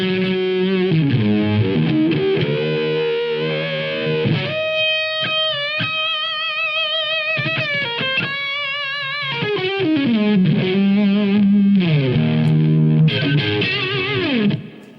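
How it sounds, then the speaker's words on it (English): Electric guitar played through an old MXR Distortion Plus pedal from about 1970, gnarly fuzzy distortion over riffs and sustained chords, loud and continuous for about fifteen seconds. "Then I've got an old MXR Distortion Plus, from about 1970. Very, very gnarly pedal."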